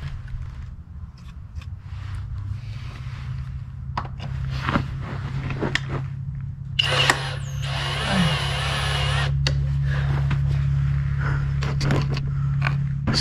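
Drilling out a stripped bolt on a 2008–2009 Kawasaki ZX10R motorcycle: a low steady machine hum with scattered clicks and taps, and a loud burst of drill whine for about two seconds midway, close by with no talking.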